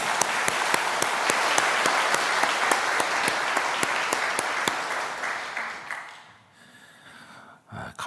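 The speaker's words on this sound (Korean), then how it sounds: "어제도 박수 한 번 더 쳤는데 오늘도 박수 한 번." A church congregation at an early-morning prayer service applauds after a hymn, many hands clapping in a loose, steady rhythm for several seconds before fading out into near quiet.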